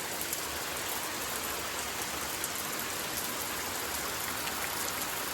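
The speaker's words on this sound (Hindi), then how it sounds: "इतनी तेज बारिश आ गई है।" Heavy rain pouring steadily outdoors, a dense, unbroken hiss of falling water that stays loud and constant throughout with no voices.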